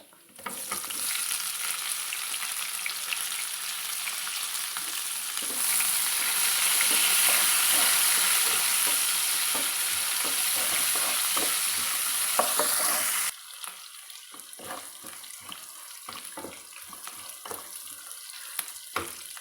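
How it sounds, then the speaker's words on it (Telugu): Sliced onion frying in oil with urad dal and chana dal for a Telugu amaranth-tomato curry: a loud, close, continuous sizzle that drops to a quieter crackle partway through, with occasional stirring scrapes and no speech. "ఈ మినప్పప్పు, శనగపప్పు ఇట్లా వేగినాక కట్ చేసుకున్న ఒక ఉల్లిపాయ"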